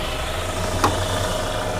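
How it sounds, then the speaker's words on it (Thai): A 2011 Hyundai Grand Starex 2.5 VIP van idles with its engine bay open, a steady low mechanical hum with a brief click partway through, heard up close. "ตอนนี้นะคะเราสตาร์ทเครื่องยนต์อยู่นะคะ"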